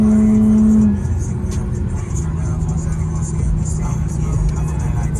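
Infiniti G37 fitted with AFE Pro Dry S air filters accelerating on a rain-wet highway, a steady loud engine drone with a rising tone at the start, heard from inside the car while people talk.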